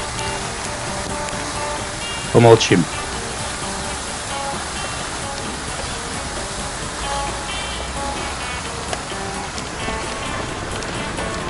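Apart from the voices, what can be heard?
waterfall flowing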